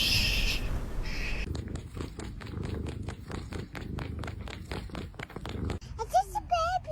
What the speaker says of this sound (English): Wow, that was a big meow.